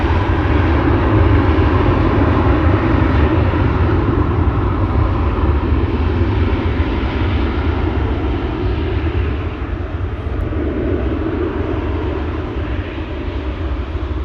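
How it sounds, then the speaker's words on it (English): El Al airliner bound for Tel Aviv roaring with a loud, steady engine rumble at Amsterdam Schiphol Airport, the broadband roar holding strong for the whole stretch and easing only slightly toward the end. "El Al flight 338 to Tel Aviv,"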